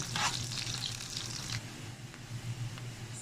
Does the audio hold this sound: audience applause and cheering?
no